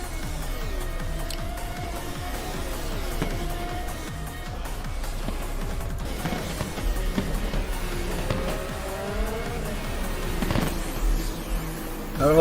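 Formula-style race cars roar across the start-finish line in the rFactor game, a dense, constant blur of engine whine and passing cars with rising and falling pitches throughout.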